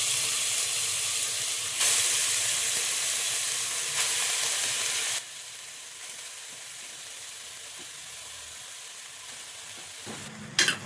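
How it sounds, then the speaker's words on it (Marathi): Grated carrot dropped into hot ghee in a pan, a steady loud sizzle and hiss that drops to a softer, even frying crackle partway through, with a few clinks near the end. "तूप तापलंय, ह्याच्यामध्ये मी आता गाजराचा किस टाकून घेते।"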